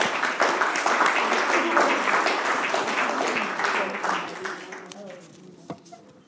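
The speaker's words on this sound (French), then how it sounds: "je veux vous applaudir" Members of an association at a general assembly conference give a sustained round of applause that fades out, ending with a few scattered claps and a brief voice.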